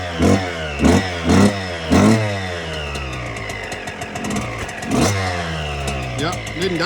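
A 2000 Suzuki RM 125 two-stroke dirt bike with a sticky, dragging clutch revs hard in repeated rising bursts, then settles into a loud, buzzing ride with wavering engine pitch, close to the microphone.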